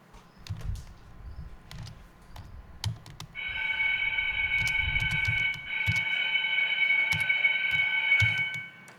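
An elementary school bell rings as a sustained, steady electric tone for the last several seconds, sounding over scattered keyboard typing nearby.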